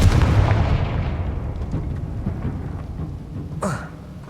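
A Confringo fire spell bursting in the video game Hogwarts Legacy, a loud booming blast that rumbles and fades, followed by a brief sharp crackle.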